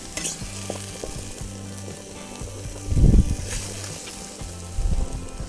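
Browned mushrooms tip into a cauldron, with steady oil sizzling and spoon stirring punctuated by two loud bursts of hiss and clatter as they drop in.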